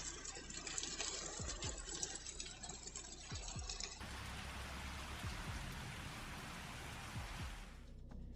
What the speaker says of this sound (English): the hailstones pounded the streets, rooftops, and vehicles,